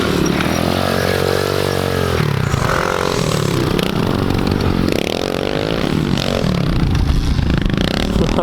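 Dirt bike engine, either a KLX 110 or a comparable machine on a trail ride, revving loudly and close by, its pitch rising and falling as the throttle works, along with rattling and scraping from the ride.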